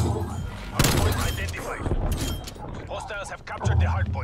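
AK-74u rifle fire in Black Ops Cold War, with a burst of loud, close shots and a sharp crack near the start and more firing at the end, under someone talking.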